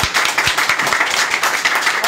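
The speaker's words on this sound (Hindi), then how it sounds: "एक बार जबरदस्त ताली" An audience at an IMC business gathering claps loudly together, a dense, steady round of applause with many overlapping hand claps throughout.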